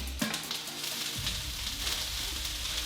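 Steady sizzling of peppers, onions and turkey frying in a pan, a soft continuous hiss with an occasional low clunk, no talking.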